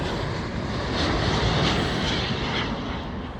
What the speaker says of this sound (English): British Airways 787 Dreamliner. Arriving in from Dubai.